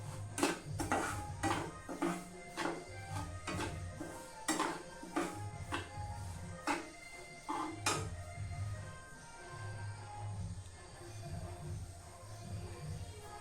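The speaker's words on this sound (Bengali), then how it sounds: "সুজি দিয়ে আগে একটু হালকা ভাজিয়ে কাঁচা গন্ধটা যাতে যায়" A metal spoon scrapes and clinks against a pan in quick, uneven strokes while dry-roasting semolina, with a low steady hum underneath.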